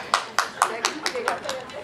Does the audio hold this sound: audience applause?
yes